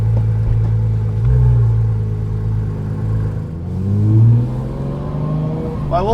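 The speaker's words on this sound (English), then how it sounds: "Turn the exhaust on for you." A Porsche GT3 Touring with its side mufflers deleted revs loudly up close, its deep engine note rising and falling in several swells, ending with a quick sharp blip.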